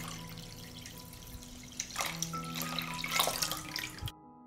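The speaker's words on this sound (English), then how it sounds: "I pour lukewarm water into the pot up to the height of the lid." Lukewarm water poured into a pot holding jars, a running splashing pour that builds and grows louder toward the end, then stops abruptly.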